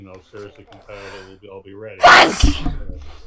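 One loud, sudden sneeze bursts out at the end of a podcast conversation, following a man's steady speech and cutting across it.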